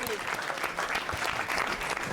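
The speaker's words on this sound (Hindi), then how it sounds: "जोरदार तालियां" Steady, dense clapping from a comedy show audience for a singer, loud and continuous throughout without pause.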